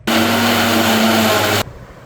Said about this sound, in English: now I'm going to grind fresh mint and coriander to prepare a chutney to go along with the paneer tikka